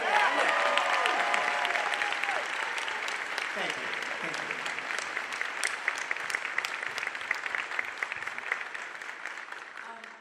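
A theater audience at a Q&A with an actor claps loudly and steadily, a dense wash of applause filling the whole stretch while a voice near the start briefly thanks the crowd.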